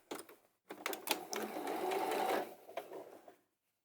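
A sewing machine stitches an opening in fabric closed, a short burst of rapid whirring needle strokes that runs steadily for about two seconds before slowing and stopping, close and fairly quiet.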